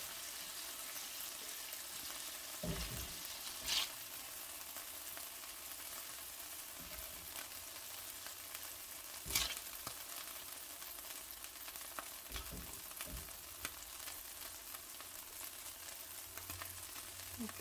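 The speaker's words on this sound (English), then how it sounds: "so we don't want to cook them thoroughly. Just brown the outside." Ingredients for paella brown in a hot pan, a faint, steady sizzle running throughout with a few brief clinks and scrapes from stirring, and no voices.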